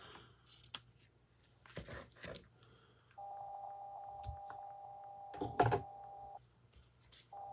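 Scissors snip through a paper card at a quiet craft table in a run of short, faint cuts, with a steady electronic hum underneath.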